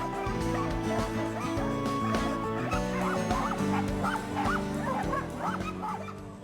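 Several dogs at an animal shelter bark and yip repeatedly at close range, their overlapping calls echoing in a busy, continuous chorus.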